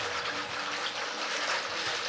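Warm milk poured fast into a bowl for dinner rolls, a steady close splashing gush with no break and no talk.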